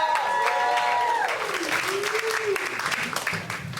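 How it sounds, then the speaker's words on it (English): A comedy-club audience applauds loudly for a performer coming to the stage, with dense clapping that tapers off under some voices and a short musical sting. "clap it up."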